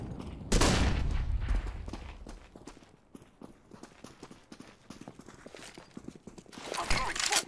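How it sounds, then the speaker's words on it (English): A flashbang grenade goes off in the Counter-Strike: Global Offensive video game with a sharp, loud burst, followed by quick footsteps and scattered gunfire throughout. "Throwing a flashbang."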